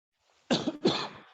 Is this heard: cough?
yes